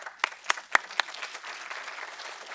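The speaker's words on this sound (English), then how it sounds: "give a panel a round of applause" Audience applause for a panel at a live-streamed AGOA civil society secretariat event: a few loud separate claps open, then a softer, steady patter of clapping from the room continues.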